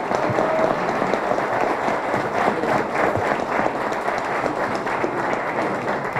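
Audience applause at a national sports journalism award forum, steady broadband clapping sustained throughout at moderate loudness, with no voices standing out.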